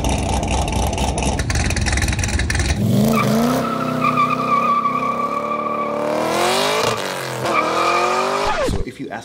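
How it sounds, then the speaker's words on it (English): An LS V8 engine revs loud and close, its rough, burbling exhaust climbing and falling through several pitch sweeps before cutting off abruptly. "sometimes I hear LS engines that sound like this"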